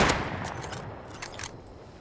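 Explosive-round gunfire in the video game Rust at night, several sharp shots in quick succession over a steady background hum, moderately loud and fairly close.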